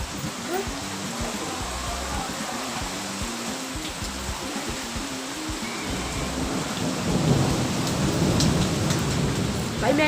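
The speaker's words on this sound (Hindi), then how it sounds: "बारिश भी तेज हो रही है। वो बिजली देखो कैसे कड़क रही है" Steady heavy rain pours throughout, with a deep rumble of thunder swelling louder toward the end.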